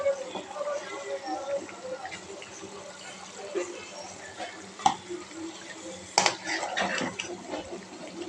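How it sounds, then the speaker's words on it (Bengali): Cumin powder stirred into nearly cooked beef in a pot, with a spoon scraping and clinking against the metal and a soft wet sizzle throughout, close and moderately loud, with two sharper knocks partway through. "এখন দিয়ে দিব জিরার গুঁড়া। জিরার গুঁড়াটা দিয়ে দিব মাংসের মধ্যে।"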